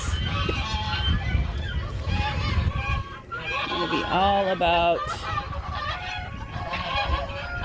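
Domestic ducks kept in backyard animal pens honk loudly as an alarm, giving several bursts of nasal calls close by. A person talks between and over the calls.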